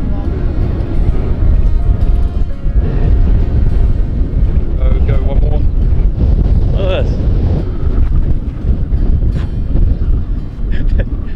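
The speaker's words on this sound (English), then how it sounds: "It is windy." Wind buffeting the microphone on a downhill par-four golf course, a constant loud low rumble through the whole stretch with faint sounds underneath.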